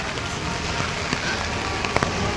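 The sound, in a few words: heavy rain falling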